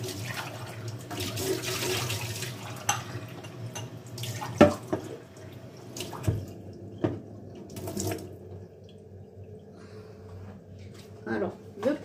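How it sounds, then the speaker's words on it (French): Lukewarm water is poured glass by glass into beghrir batter, making a running, splashing flow with brief surges and pauses between pours, under a speaking voice. "4 verres de l'eau tiède"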